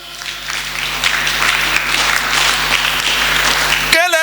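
A church congregation at a French-language worship service breaks into loud, sustained applause and cheering, a dense clapping wash lasting several seconds before a brief tonal sound cuts in at the end.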